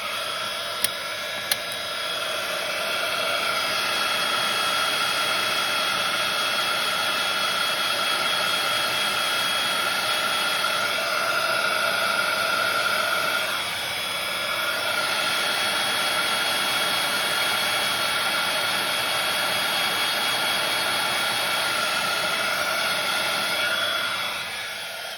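A craft heat dryer blows steadily for about twenty-five seconds while drying coloured paper die cuts. The whine is loud and close, with a brief dip in the middle and two small clicks at the start.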